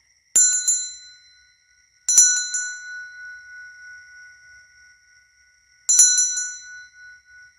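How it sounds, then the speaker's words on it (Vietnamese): Ritual bell rung during a spirit-summoning ceremony after offerings are burned, struck three times with a bright, clear metallic ding that rings on and fades slowly between strikes, close and alone. "tiếng chuông rất là thanh, rất là ngân, có thể gọi được ở xa luôn các bạn"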